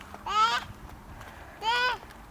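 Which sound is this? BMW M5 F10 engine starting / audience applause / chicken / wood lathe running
chicken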